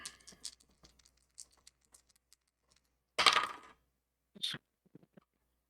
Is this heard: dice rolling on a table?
yes